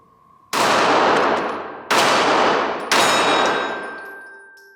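Three loud gunshots from a Glock 26 Gen 5 9mm compact pistol fired at close range: sharp blasts about a second apart, each with a long ringing decay, the last followed by a metallic ring.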